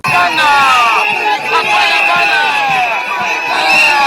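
Large crowd greeting a senator at the airport in Bandundu: dense, loud continuous shouting and cheering with many high voices, sustained without pause.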